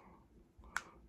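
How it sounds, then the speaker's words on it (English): A plastic part from a DNA Design DK-18 upgrade kit for a Transformers Studio Series Shockwave figure snaps into its hole with a single sharp, quiet click after a brief soft fumbling rub. "I'm gonna click this thing back into the hole."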